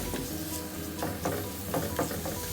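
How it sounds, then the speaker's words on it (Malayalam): Chopped dates fry in ghee in a pan, giving a steady sizzle broken by several scraping stirs of a spoon, heard close up with no talk. "നമുക്കത് നെയ്യിലിട്ട് വഴറ്റിയെടുക്കാൻ"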